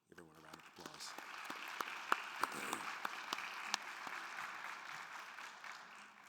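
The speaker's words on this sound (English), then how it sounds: "Everyone, a round of applause." Conference audience applause at a literary panel, a moderate round of clapping with sharp individual claps standing out, rising after a short pause and tapering off with some voices underneath.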